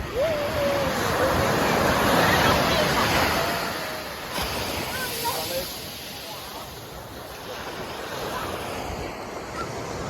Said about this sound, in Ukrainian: Тут досить сильні хвильки.